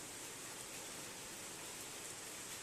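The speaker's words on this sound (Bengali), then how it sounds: "সকাল থেকেই বৃষ্টি" Rain falls in a steady, even hiss with no distinct drops or pauses, soft and constant throughout.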